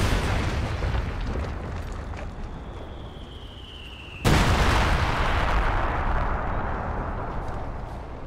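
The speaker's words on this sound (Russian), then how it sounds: "Артиллерия!" Artillery shells exploding in Company of Heroes 2, a loud broadband blast at mid-clip over steady rumbling battle noise, after a high descending shell whistle, with a dense roaring decay that follows.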